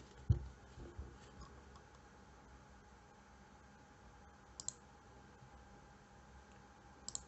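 A few sharp computer mouse clicks while working in Revit, one near the start and a couple of faint pairs later, close but quiet against a soft room hum.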